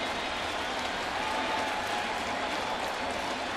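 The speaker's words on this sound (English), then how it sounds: "Crowd here at the stadium looking for a strikeout." Baseball stadium crowd applauding and cheering, a steady, dense wash of clapping and crowd noise filling the ballpark without pause, with faint voices mixed into the roar.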